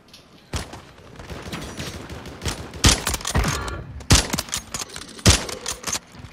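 Warzone 3 video game gunfire: sharp close shots and short automatic bursts at irregular intervals, loud and punchy over a busy low rumble, with no talk.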